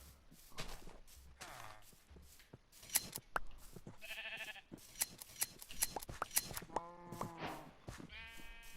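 Minecraft sheep bleat several times in a survival game, the wavering game bleats mixed with footsteps, clicks and other game effects, all fairly quiet.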